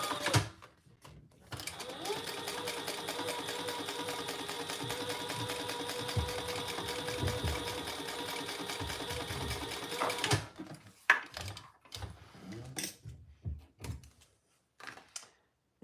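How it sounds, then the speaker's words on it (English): A sewing machine runs a top stitch along a fabric seam in one continuous, even mechanical hum of about nine seconds, followed by quieter clicks and handling noises once it stops. "we'll top stitch with the seam that we just created going towards the bottom"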